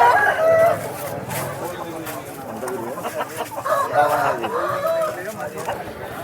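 A rooster crows and clucks close by among other fowl at a rooster market in Vijayawada, while people talk over the birds in the background.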